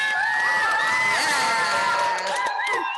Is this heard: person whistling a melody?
no